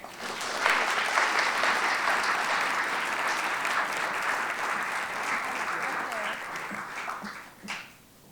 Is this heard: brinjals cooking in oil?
no